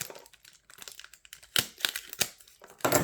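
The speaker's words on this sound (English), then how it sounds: "I'm gonna quickly cut away into the package." A blade cuts open a package holding a Samsung Galaxy Note 10 Plus, with soft crinkling and scratching that build into sharp, close tearing and crackling bursts toward the end.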